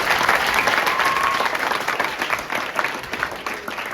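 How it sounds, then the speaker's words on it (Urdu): A school audience claps for the student host at a teachers' day event, dense and sustained applause that fills the room evenly throughout, with no one speaking over it. "میں چاہوں گا کہ آپ ایک مرتبہ جو نظامت کرنے والی بچی ہیں ان کے حق میں تالیاں بجا دیں۔"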